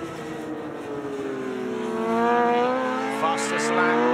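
Superbike race motorcycles at a Malaysia Superbike Championship round passing on track, a loud sustained engine whine with harmonic pitch rising and swelling as the bikes draw near, with a commentator speaking over it.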